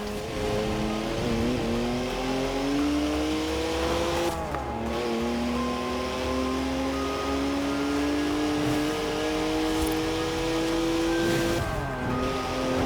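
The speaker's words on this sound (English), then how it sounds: "3-litre straight six, 335 horsepower, 2 turbos, and as much sideways action as you like" A twin-turbo 3-litre straight-six car with 335 horsepower accelerates hard, its engine note climbing steadily in pitch through long pulls with brief gear-change dips, loud and close over a constant rushing wind noise.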